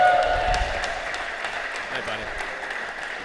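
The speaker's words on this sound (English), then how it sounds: "huge round of applause for this year's champions" An audience applauds the champions at a memorial competition event, a dense wash of clapping, with a voice speaking briefly over it at the start.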